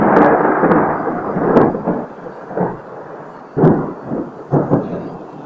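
Thunder rumbling in an afternoon or evening storm over an orchid garden, several rolling booms and sharp cracks at irregular intervals, loud and fairly near, with no talking.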